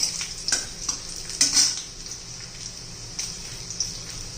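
Crushed garlic fries softly in a pan for a bottled gourd curry, a low sizzle broken by a few light clinks and scrapes of a spoon against the metal.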